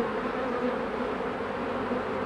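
A dense, even drone of many honey bees rises from an opened hive, constant and close with no breaks.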